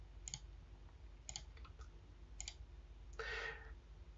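Mouse clicks on requirement checkboxes while setting up a public Grafana dashboard: three crisp, evenly spaced clicks, each with a faint echo, followed by a brief louder burst, all close and quiet with no speech.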